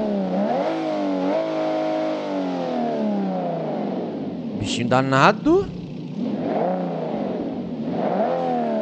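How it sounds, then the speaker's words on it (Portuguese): Toyota Supra mod in the BeamNG.Drive driving game revs its engine repeatedly, with a smooth, rising and falling tone over a steady idle. A man calls out excitedly partway through. "Vamos dar uma escutada no barulho do motor?"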